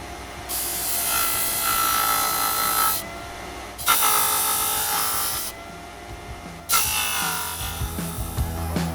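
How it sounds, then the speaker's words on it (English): A 320 grit sanding disk grinds the back of a used SSD circuit board in loud, rasping bursts with short pauses between passes, close up. "We should be unstoppable with 320 grit sanding disk."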